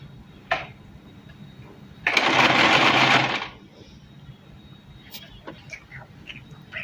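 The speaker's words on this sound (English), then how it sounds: "So now just start your machine by pressing that pedal" Sewing machine running in a short burst of about one and a half seconds as a child presses the pedal on a beginner's project, loud and close, with faint clicks and quiet room noise around it.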